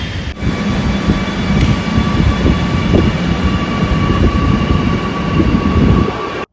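A Kochi metro train at a metro station, a loud, steady rumbling roar with a faint high whine, continuous and close for the whole stretch before cutting off abruptly.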